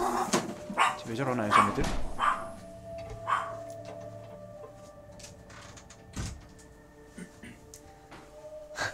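A dog in the Fallout 4 video game barks and whimpers in short bursts early on, mixed with game sounds and a sliding door, while someone talks over it.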